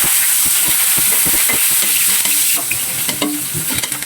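Ginger sizzles steadily in a hot pan while being stirred, with frequent scraping and clacking of the utensil against the pan; frying hiss stays loud and continuous throughout, with no voices.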